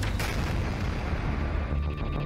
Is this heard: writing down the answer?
no